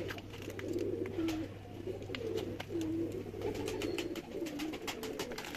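Pigeons of a prized Lahore breed cooing in a loft, repeated low rolling coos at close range over a steady background hum, with faint chirps and rustling.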